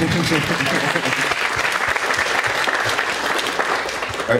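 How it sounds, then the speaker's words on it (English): Audience applause with snaps and claps at the close of a talk, a dense, steady patter of many hands held evenly for the whole stretch, with a faint murmur of voices underneath. "Yeah, you want to do some snaps or claps?"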